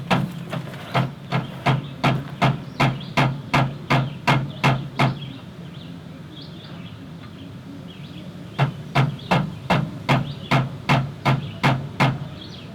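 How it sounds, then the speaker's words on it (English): A hammer strikes a part of a 1978 Ford F250 truck in quick, steady runs of ringing taps, then pauses before another rapid burst of evenly spaced blows, close and loud. "grab me a hammer and let me tap on this a little bit"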